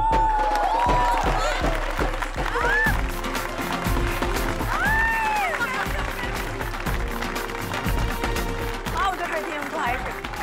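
Studio audience clapping in welcome for Kiara Tejwani on a Hindi sitcom set, a steady rhythmic patter of hands beneath a host's lively speech throughout.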